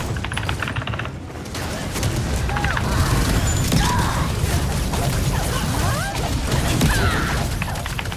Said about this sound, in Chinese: 炸了，他在爆炸球